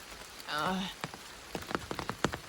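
Rain falling on a tent on the Appalachian Trail, with scattered drops tapping the fabric against a soft background hiss and a short muffled sound early on.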